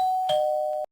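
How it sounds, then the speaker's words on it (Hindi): A cartoon doorbell rings at a family home: a clear electronic two-tone chime, sounded once and stopping abruptly, with nothing else around it. "तभी अचानक डोरबेल की आवाज बजती है।"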